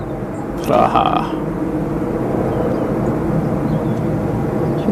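An EasyJet Airbus A320 arriving at Manchester Airport gives a steady, broad jet roar that holds for the whole stretch, with a brief voice near the start.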